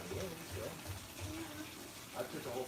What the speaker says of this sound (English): I took the whole plug out. It's draining straight out the bottom.